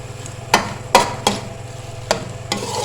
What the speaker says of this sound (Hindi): इतनी भुनाई करेंगे कि हमारी गाजरें जो है ना वो घी छोड़ दें